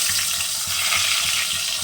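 Chela fish frying in hot mustard oil in a wok, a steady close-up hiss and sizzle with crackling bubbles throughout, no talking.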